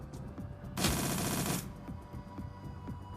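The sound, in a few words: full auto gunfire, Shadowrun: Dragonfall video game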